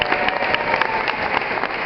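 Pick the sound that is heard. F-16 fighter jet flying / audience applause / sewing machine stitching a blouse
audience applause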